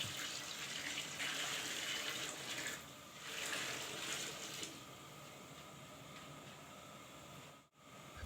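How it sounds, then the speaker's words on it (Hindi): Water pours steadily into a cooking pot with a splashing rush, easing off partway and continuing more softly before a brief dip near the end. "अब हम इसमें ऐड करेंगे पानी"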